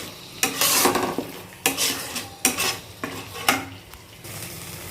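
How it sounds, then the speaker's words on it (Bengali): A spice masala with coriander and garam masala sautés in a pan, under a low continuous sizzle broken by several loud, close spatula scrapes and stirs spaced a second or so apart, no talking. "তো এটা দিয়ে এখন ভালো করে কষিয়ে নেব।"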